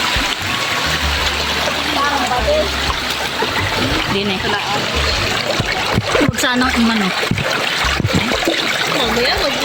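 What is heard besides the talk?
water splashing in a river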